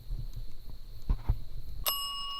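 A ghost-hunting device gives a single sharp bell ding near the end, ringing on clearly over low thumps and handling noise.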